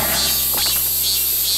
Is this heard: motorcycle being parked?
no